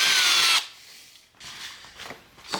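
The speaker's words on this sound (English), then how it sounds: "Wow, it's super easy to drill through." A drill bores through a plastic-feeling part of a 1992 Honda CR80R motorcycle, a loud burst of drilling that stops, followed by softer scraping and handling sounds nearby.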